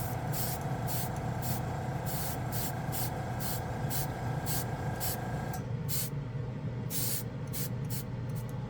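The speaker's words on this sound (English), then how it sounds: "Oop, compressor just kicked in." An air compressor runs beside airbrush work with Vallejo metal acrylic paints, giving a continuous close hum and hiss with short repeating spray bursts on top.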